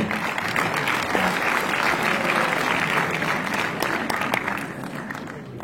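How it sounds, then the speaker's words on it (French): Cinema audience applauding at a film premiere at UGC Mondeville, a thick, sustained roar of many hands clapping, loud and even, slowly tapering near the end. "Faut applaudir Paul."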